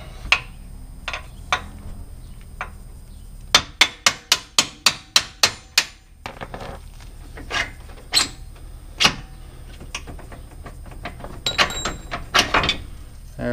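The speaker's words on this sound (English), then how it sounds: "use a hardened extension and a little hammer to go ahead and pop that bolt out." Sharp metallic hammer taps on a hardened extension driving a bolt out of a Can-Am Maverick X3 radius rod, a fast run of about ten evenly spaced strikes followed by scattered single knocks, close and fairly loud.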